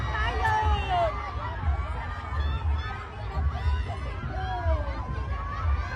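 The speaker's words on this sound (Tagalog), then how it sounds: "grabe ang sigawan nila" A crowd at the Sinulog parade in Cebu screams and shouts in a lively, overlapping din of high voices, with nearby chatter and talking layered on top throughout.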